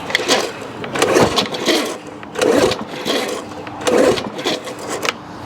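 A Lawn Boy two-stroke lawn mower is cranked with repeated rough pull-cord strokes, each a short rasping whir in a rhythmic series close by, with no clear catch.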